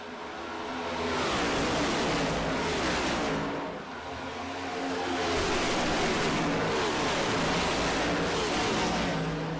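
Next Gen Cup stock cars at Daytona roar as they accelerate on a late-race restart, a loud, dense engine wash that swells twice, with no voices over it.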